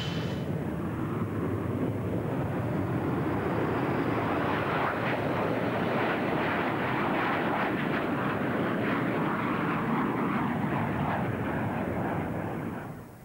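An F/A-18 Hornet jet in flight gives a loud, continuous engine roar that holds steady throughout and cuts off abruptly at the end.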